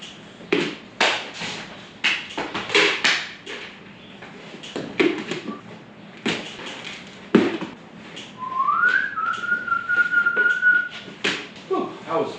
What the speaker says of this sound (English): I was whistling loud